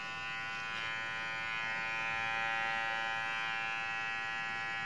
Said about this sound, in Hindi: अभी हम चलाते हैं इसके ऊपर ताकि पता लगे कि वाकई ट्रिमर काम करता है कि नहीं करता।